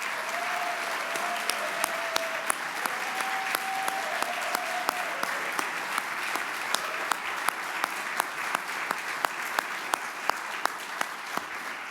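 Sustained audience applause for law school faculty at a gala, a dense, even wash of clapping from a large room with a few sharp individual claps standing out, continuing steadily for about twelve seconds.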